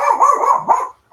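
A dog barks in a home during a live build of an Airfix 1/24 Spitfire Mk Vb model, giving a close, loud run of rapid barks lasting about a second, then a brief faint yip after a short pause.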